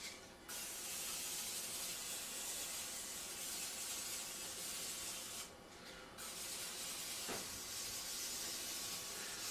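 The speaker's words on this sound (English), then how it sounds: "I'm going to go ahead and use just canola spray" A long, steady hiss of canola cooking spray close up, greasing a muffin pan, pausing briefly once before continuing, with a light clink near the end.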